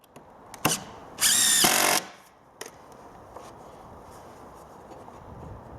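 Power drill briefly driving 65mm timber decking screws into a gate, one short loud whirring burst with a few clicks before it and quiet afterward.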